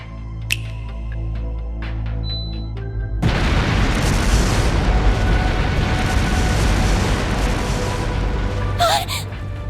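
Explosive artifacts go off inside a palace in the role-playing game The Legend of Heroes: Trails through Daybreak, a sudden loud blast followed by a sustained crackling, rumbling roar after a quieter start.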